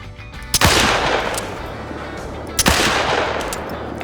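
Two loud, sharp gunshots from a .45 Rolston revolver in a hunting video game, spaced about two seconds apart, each followed by a lingering outdoor echo.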